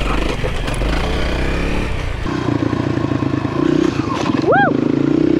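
A dirt bike crosses a large log on a forest trail, the engine droning loud and close with clattering knocks as it climbs over, while people talk and cheer over the motor.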